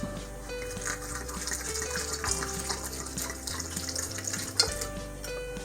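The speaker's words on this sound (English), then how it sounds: "Now I'm just gonna add a little water." Water pours into a blender holding cucumbers, a steady splashing gush close by with some gurgling and a brief clunk near the end.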